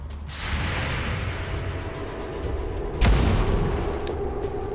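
Incoming enemy gunfire in the XCOM 2 video game, heard as a sustained rumble of battle noise that swells into a sharp loud blast around the three-second mark, with no talking.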